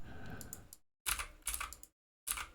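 Typing on a computer keyboard while coding, short clusters of close, light key clicks separated by brief silences, quiet and alone.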